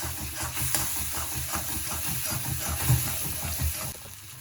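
Cashews frying in a pan and stirred steadily, a continuous low sizzle with soft scraping and clicking through the whole stretch, moderately close and fairly quiet, no voices.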